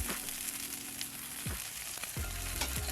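Garlic herb butter sizzles steadily on a Blackstone griddle beside seared ribeye, a continuous close hiss broken by a few scraping stirs of a spatula, with no voices.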